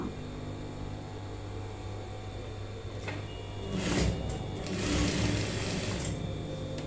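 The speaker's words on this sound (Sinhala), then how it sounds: "දැන් මම මේ අත්වාටි නවල මහන්නයි යන්නේ." A sewing machine stitches the folded sleeve hem of a kurta top, its steady motor hum running throughout and swelling into two louder stitching bursts near the end.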